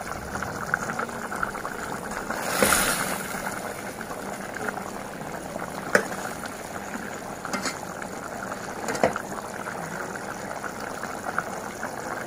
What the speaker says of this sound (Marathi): आपण झाकण ठेवूया आणि 20 मिनिटं आपण मीडियम गॅसवर हे मटण शिजवून घेऊया.